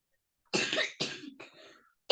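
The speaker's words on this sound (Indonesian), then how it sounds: "ini anak saya lagi batuk" A child coughs nearby, loud and close: two harsh coughs followed by a softer, raspy trailing one, then the start of another cough at the very end.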